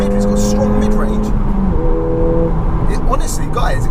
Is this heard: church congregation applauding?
no